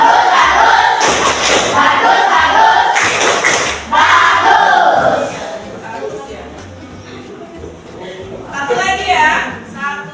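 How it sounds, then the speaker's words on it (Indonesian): A group of children claps out a rhythmic cheer in a classroom in West Sumatra, with loud patterned claps and chanting voices. Quieter talk follows. "Oke, kita kasih tepuk bagus buat Yuda."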